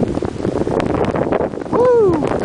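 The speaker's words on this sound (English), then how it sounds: "That's a 40 mile an hour gust." Strong wind gusts of around 40 mph roar during a 2010 blizzard, buffeting the microphone with rough, uneven bursts. Near the end a person lets out a loud whooping exclamation over the wind.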